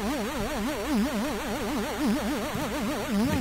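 A Surge synthesizer tone whose pitch is swept by a sample-and-hold LFO, giving a steady, rapid warbling wobble that runs continuously without pause, alone and fairly loud.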